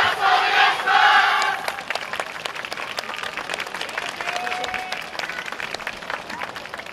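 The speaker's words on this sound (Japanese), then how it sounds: "ご声援お手拍子よろしくお願いいたします。" Festival crowd at the YOSAKOI Soran dance festival claps and cheers loudly at first, then the applause settles into a steadier, quieter patter of clapping from many people outdoors.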